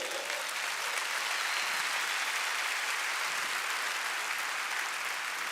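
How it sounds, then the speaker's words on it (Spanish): A church congregation applauds during a sermon, a steady, dense wash of clapping that holds evenly for several seconds with no voices over it. "Denle un aplauso a Jesús que no pecó."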